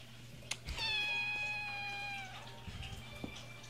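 A house cat gives one long, clear meow lasting over a second, close by and alone against a quiet indoor hum.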